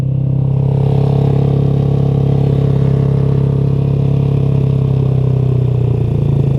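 A Competition Werkes motorcycle engine idles stuck high at about 4,000 rpm, a loud steady droning hum with no change in pitch throughout and no voices.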